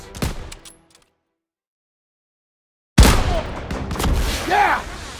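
Gunfire in the Call of Duty WW2 video game, a sharp loud burst opening a dense volley after a brief silence, with shouting voices over the shots.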